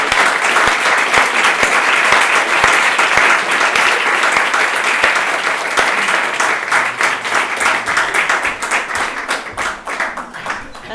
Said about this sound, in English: I would like to ask for a little round of applause